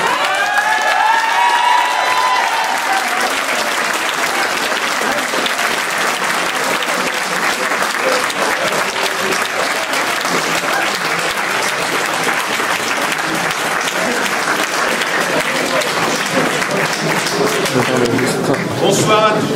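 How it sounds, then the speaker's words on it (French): Sustained applause from a crowd at a French CGT railway workers' union gathering, steady and dense for the whole stretch, with some cheering and voices mixed in. "on peut applaudir les camarades cheminots"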